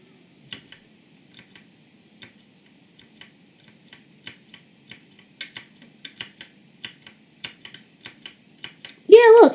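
A broken computer keyboard clicks under typing, irregular light taps scattered sparsely at first and then in quicker runs, close and quiet, before a voice starts speaking at the very end.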